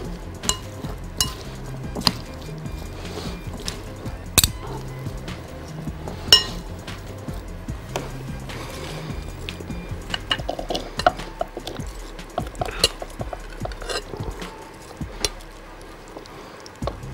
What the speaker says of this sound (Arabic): ونديها تقليبه اخيره